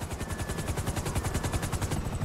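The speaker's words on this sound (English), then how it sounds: "FIB choppers, pick me up!" A police helicopter in GTA 5 thumps with fast, steady rotor beats, loud and close, a dense rhythmic chop with possible gunfire mixed in.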